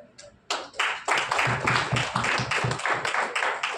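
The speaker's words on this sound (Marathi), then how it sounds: "टाळ्या वाजवायच्या असतील तर मनापासून वाजवा, उगाच त्यात कंजूस वाजवू नका" An audience claps together in a steady burst that starts after a brief pause, close and loud, with many hands overlapping into dense applause and no talking.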